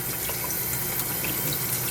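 Tap water runs steadily and close over freshly hatched pleco eggs being rinsed clean of salt water, a continuous even splashing rush with no voices.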